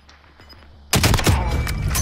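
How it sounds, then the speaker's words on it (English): Gunfire in a video game erupts suddenly after a quiet lead-in: loud, close bursts of rapid shots ring out and keep going to the end. "I'm getting shot at."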